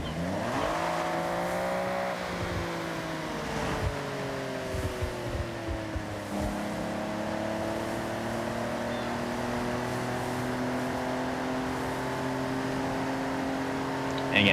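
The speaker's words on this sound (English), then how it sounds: "just taking some time right now to appreciate this absolute godsend of an engine sound" Car engine in the racing game Forza Horizon 6 droning steadily, its pitch climbing then easing as it revs and settles into a sustained hum, moderately loud and alone for most of the stretch.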